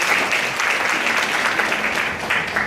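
A middle school honors night banquet audience breaks into dense, steady applause that fills the room for a few seconds before tapering slightly.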